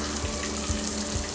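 Ginger frying in a spoonful of hot oil gives off a dense, continuous sizzle with a few soft low knocks of a utensil, close and steady for a brief moment.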